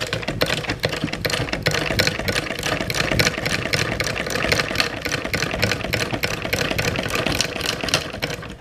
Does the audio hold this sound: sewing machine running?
yes